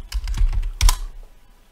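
Short burst of typing on a computer keyboard while renaming a material in Blender, two quick clusters of close, crisp keystrokes with no talking.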